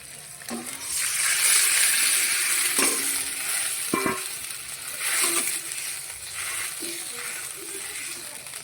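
Spice masala for pabda fish curry sizzles in a pan as it is stirred, with a steady frying hiss and intermittent scrapes and knocks of the spoon against the pan.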